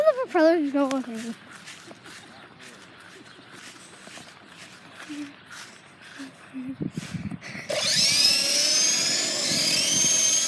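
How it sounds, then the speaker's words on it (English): A toy helicopter's propellers whir up into a dense high-pitched buzz during the last few seconds, loud and steady, after a stretch of voices and scattered knocks. "Remember the propellers go all crazy."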